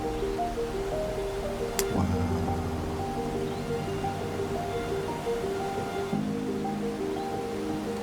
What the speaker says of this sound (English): इतनी फोर्स से पानी गिर रहा है, इतनी तेज आवाज आ रही है कि वो मतलब दूर दूर तक सुनाई दे रही है।